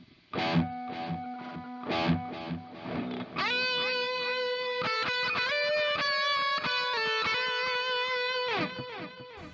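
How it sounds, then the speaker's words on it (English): An electric guitar played through the delay of a Lekato Cube Baby multi-effects unit: a few picked distorted notes, then sustained chords whose echoes repeat and smear into a continuous ringing wash. "It's a nice delay."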